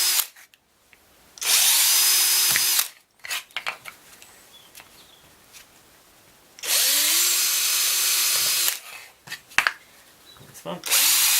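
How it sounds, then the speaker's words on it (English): A power drill with a 4mm bit boring bolt holes, two sustained whirring bursts of about two seconds each, separated by quieter handling clatter and small knocks. "Get your drill, depending on what size you got. I've got 4mm bolts today. I use my 4mm drill."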